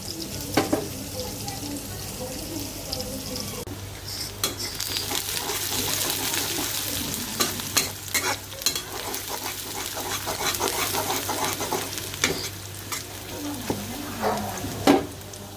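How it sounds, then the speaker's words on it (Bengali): Onions fry in oil left over from frying rohu fish for a bhuna, giving a steady sizzle broken by frequent stirring scrapes and clinks. "এখন রুই মাছটা বোনা করার জন্য পেঁয়াজ দিলাম আর তেল দিলাম"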